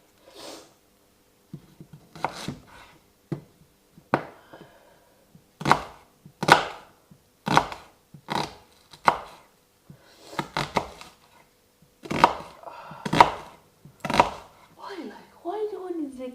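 Onions being chopped with a knife on a board in a home kitchen, about a dozen sharp, fairly close thuds in irregular bursts, with occasional talk between them.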